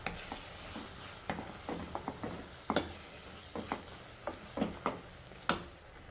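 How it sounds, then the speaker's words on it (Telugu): A spoon stirs grated mango chutney mixed with a little fenugreek powder in a pan, making a series of close, irregular scraping taps and clinks with short quiet gaps between them. "సో బాగా దీన్ని మిక్స్ చేసేద్దాం."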